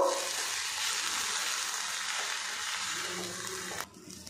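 A spiced gram flour mixture being stirred in a pan, heard as a quiet, continuous sizzle and scraping hiss without talk, cut off by a brief clatter before fading.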